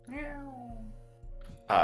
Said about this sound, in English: A cat laid down on my hand